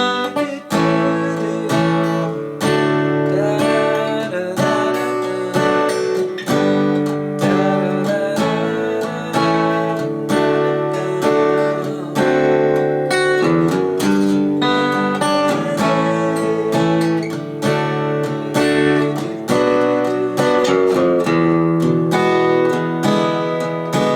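An acoustic guitar plays the bridge of a song, steady strummed and picked chords ringing continuously for over twenty seconds, close and clear with no voice.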